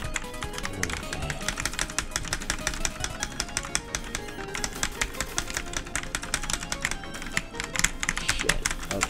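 Rapid, steady keystrokes on an Epson PC-486GR computer keyboard, close and continuous for the whole stretch, with irregular bursts of clicky taps.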